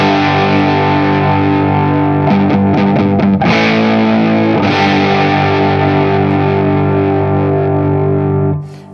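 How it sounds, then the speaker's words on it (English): An inexpensive Les Paul-style electric guitar on its neck pickup, playing loud distorted chords that ring out thick and sustained with a few quick strummed changes midway, then cut off at the end. "Sounds really nice in the neck pickup."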